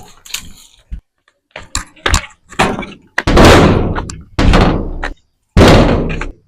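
A wooden house door is banged and knocked hard in a series of loud separate thuds and slams, some heavy blows ringing out longer, with short silences between them.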